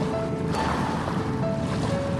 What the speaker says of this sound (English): just listening to the sound of the sea